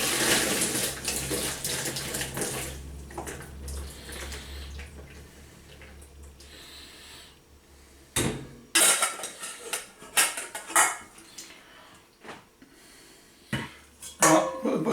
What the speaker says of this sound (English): strain off the butternut squash